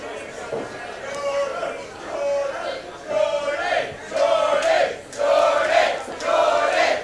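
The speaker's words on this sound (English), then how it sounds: "It is good to hear their chants again." A wrestling crowd at the Carolina Beer Temple during a Winter-Bash show chants in rhythmic swells, loud and massed, with cheering and chatter filling the room between bursts.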